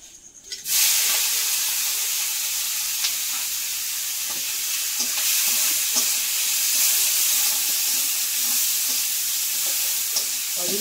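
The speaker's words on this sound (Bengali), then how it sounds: "ওদিকে চিংড়ি মাছ ভাজা চলছে" Shrimp frying in a pan give a steady, loud sizzling hiss that starts suddenly and continues throughout, with faint spatters and stirring clicks.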